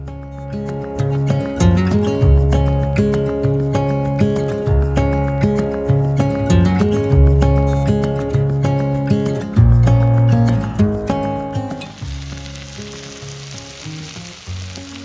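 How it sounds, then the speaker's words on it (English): Vegetables with fajita seasoning sizzle steadily in a frying pan as they are stirred, the frying nearly buried under loud, steady background music that ends near the close. "I'm letting these cook for about 8 to 10 minutes and making sure to stir them frequently."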